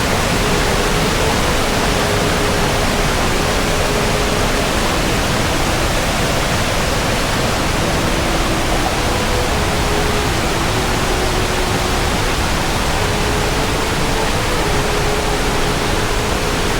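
The waterfall at Langga Duae in East Kutai's karst landscape pours as a loud, steady, broadband roar of falling water, constant and unbroken throughout with a faint tonal hum beneath, no voices audible.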